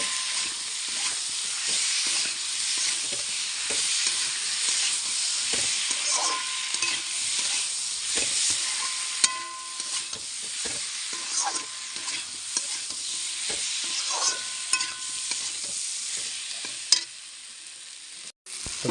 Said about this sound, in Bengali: এবার ভালো করে আমি কষে নেবো আলুটাকে